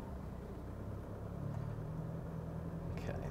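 Toyota HiLux GR Sport pickup engine under throttle during a cross-axle off-road climb, a steady low rumbling drone that swells slightly and holds, close and continuous, with faint clicks near the end.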